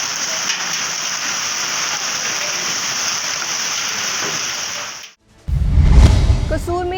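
Torrential rain over the city of Chiniot and its surroundings, a dense, loud and steady hiss for about five seconds before cutting off into a burst of other noise.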